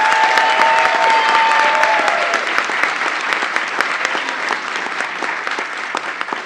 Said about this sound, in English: I want to once again congratulate our graduates. Let's give them a round of applause.